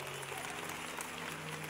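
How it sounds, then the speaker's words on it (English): Church congregation clapping hands together at a lively evening service, a steady dense wash of applause with a low hum of the room underneath, sustained throughout. "clap your hands if you're excited to be here tonight"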